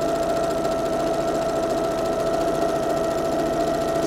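A sewing machine stitches quilt block fabric pieces together in a straight seam, running steadily and continuously with a fast mechanical whir and rhythmic needle chatter, close and alone.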